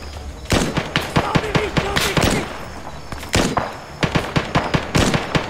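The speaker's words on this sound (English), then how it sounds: "Taking fire!" Rapid gunfire crackles in an Arma 3 military firefight, bursts of sharp, loud shots in quick irregular clusters with brief pauses between volleys, without talk.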